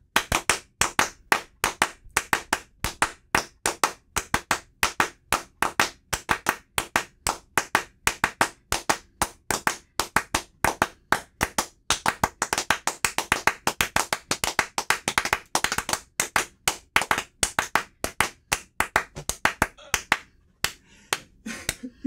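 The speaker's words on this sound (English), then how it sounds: "I am going to force my friend to perform clapping music with me" Two people clap Steve Reich's Clapping Music, a steady stream of sharp, close hand claps in interlocking rhythmic patterns that run continuously with no talk over them.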